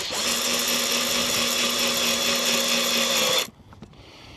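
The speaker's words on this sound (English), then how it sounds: "Just going to screw them to a post." Cordless power drill driving screws through wooden boards into a wooden garden post, one long steady whirring run lasting about three seconds, close and loud, then stopping abruptly with a few faint clicks after.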